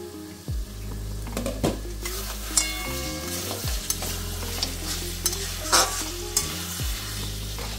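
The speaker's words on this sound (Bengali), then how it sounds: "এবার মাংসটা ভালো করে কষিয়ে নিই।" Mutton curry pieces sizzle and fry in a pan, with steady close frying hiss broken by repeated scrapes and clunks of a spoon stirring the meat.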